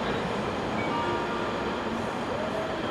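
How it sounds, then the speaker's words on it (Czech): A train rolls through Svinov station, a loud continuous rumbling roar with faint wheel squeal and rail noise throughout. "Vlak"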